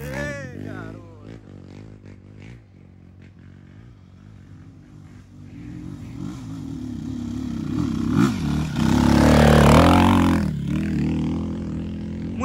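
A Honda CRF250F dirt bike engine idles and then revs up hard, rising to a loud, close roar with clattering, while someone talks over it at an outdoor trail event with many motorcycles.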